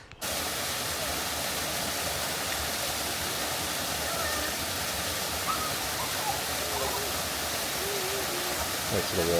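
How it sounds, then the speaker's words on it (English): A small waterfall on a hiking trail pours in a steady, dense rush of white water, constant and fairly close, with no breaks and no voices. "Nice little waterfall"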